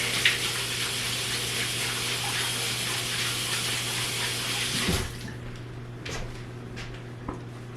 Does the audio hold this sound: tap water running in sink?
yes